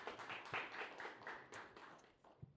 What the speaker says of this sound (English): So can we have please a round of applause for them?